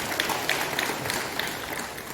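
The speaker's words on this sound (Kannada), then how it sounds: "ಜೋರಾದ ಚಪ್ಪಾಳೆ ಇದ್ದಿದೆ." Applause from an audience at a retirement function for colleagues, a faint, steady patter of many hands clapping, somewhat distant.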